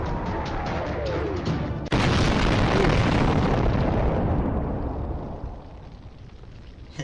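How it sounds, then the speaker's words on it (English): A cannon fires in a video game, a loud booming blast erupting suddenly, its roar and crackling debris sustained for several seconds before slowly fading out. "And there goes the cannon."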